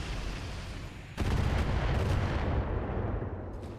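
Heavy weapons fire from a mech alpha strike in the RogueTech BattleTech game, a sudden loud booming volley that erupts after a second of background rumble and sustains in a dense roar.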